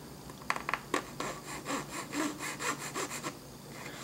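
A file works a slot into a bone guitar nut held against a corner like a miter box, giving close, rhythmic rasping strokes, about a dozen back-and-forth passes that soften toward the end.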